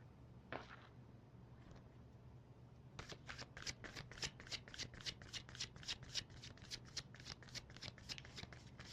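Tarot cards being shuffled by hand: a couple of light riffles early on, then a fast, steady run of crisp card flicks, close and quiet, over a low background hum.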